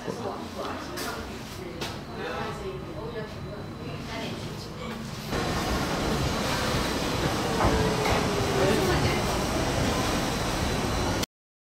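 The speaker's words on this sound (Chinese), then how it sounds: "我们现在在这个候车室里，哎，等着小火车过来。" A small train pulls into a station in Japan, heard from inside a waiting room, with a steady rumble and rail noise that grows louder partway through, while people talk nearby.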